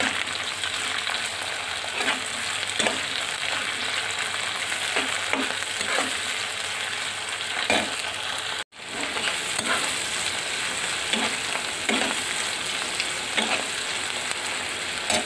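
Shrimp and onions fry in a pan with a constant dense sizzle, while a spatula scrapes and stirs at irregular intervals; there is one brief dropout midway.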